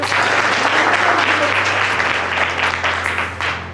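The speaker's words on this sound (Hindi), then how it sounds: "हाँ ताली बजा सकते।" Church congregation clapping together during a Hindi sermon, loud sustained applause from many hands over a low steady hum, fading slightly toward the end.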